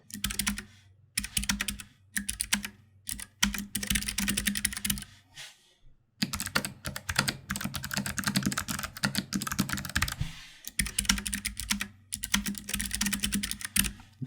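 Fast typing on low-profile mechanical keyboards with clicky blue switches, a budget Havit HV-KB390L and a Keychron K3, comes in close, dense bursts of crisp clicks separated by short pauses.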